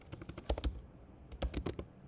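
Quick bursts of keystrokes clatter on a computer keyboard, two short flurries of typing separated by a brief pause, close and fairly quiet with no talk.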